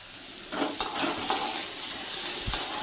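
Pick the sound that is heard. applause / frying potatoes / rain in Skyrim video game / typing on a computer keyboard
frying potatoes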